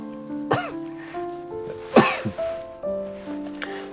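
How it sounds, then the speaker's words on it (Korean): A person coughs several times in short, throaty bursts close to the microphone, over a soft sustained musical backdrop. "또 기침을 하는데"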